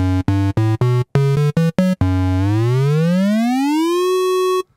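Short synthesizer notes triggered from MIDI pads fire in quick stabs with gaps between, then a long tone glides upward and holds before cutting off, bright and loud.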